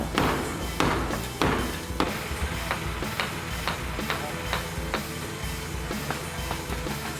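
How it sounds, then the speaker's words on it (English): Chipping away at a brick wall during a home renovation, with repeated sharp tapping and thudding strikes in an irregular rhythm, close and fairly loud over a steady background hum. "Then it was time to chip away at the brick wall."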